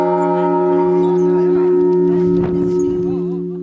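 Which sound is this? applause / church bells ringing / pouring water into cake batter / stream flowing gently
church bells ringing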